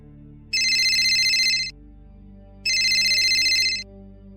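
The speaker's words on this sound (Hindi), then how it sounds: "तभी फिर से कमरे में रखे फोन पर कॉल आया।" A telephone in a hotel room rings in two long electronic bursts separated by a short pause, clear and close over a low, steady room hum, with no voices.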